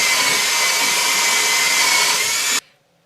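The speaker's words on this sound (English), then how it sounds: "I'm going to use a wire brush on the end of my drill to do that" Wire brush spinning on a power drill scuffs the inside of a tractor tire, a loud continuous close whirring grind for about two and a half seconds before cutting off sharply into quiet.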